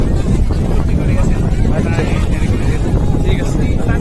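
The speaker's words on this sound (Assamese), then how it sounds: "এতিয়া বতাহ বেলি কিবা ক'ব" Outdoor wind rumbling steadily against the microphone during a Holi gathering, loud and continuous, with voices talking faintly beneath it.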